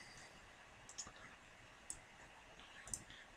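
Three faint, sharp computer mouse clicks at irregular intervals, spaced about a second apart, over a quiet room hiss with no talking.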